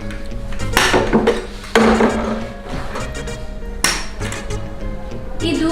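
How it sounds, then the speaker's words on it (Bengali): A plate clatters in a few sharp bursts of ringing knocks and clinks, close and loud, with quieter rattles between them. "এই তো আমি কিসের জন্য শব্দ পাচ্ছি? প্লেট।"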